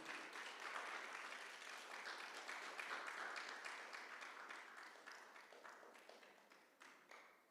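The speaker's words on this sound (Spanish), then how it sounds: "Denle un fuerte aplauso al Señor, hermano." Church congregation applauding, a dense clapping wash that thins toward the end into scattered individual claps, fairly faint and distant.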